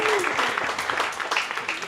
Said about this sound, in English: I ask for a big round of applause, our contestants tonight